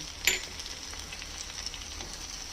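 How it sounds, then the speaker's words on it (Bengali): Chopped onion, capsicum and green chilli frying in a pan for an egg bhaji, a faint steady sizzle with a brief louder crackle near the start and no talking. "এবার সব মিশিয়ে আবার একটু ভাজবো"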